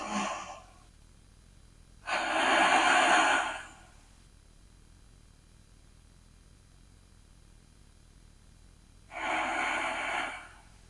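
A person takes slow, deep breaths during a yoga session. Three audible breaths with long gaps between them: a brief one at the start, a strong breath around the two-second mark and another near the end, each close and soft.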